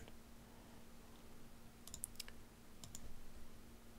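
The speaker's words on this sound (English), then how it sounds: "And then you go back here and click normalize again." A few soft mouse clicks sound while working in audio editing software on a computer, brief and faint over a steady electrical hum and background hiss.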